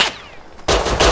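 Gunfire in the survival game Rust: a quick burst of loud, close shots cracking right after a short fading tail from an earlier shot.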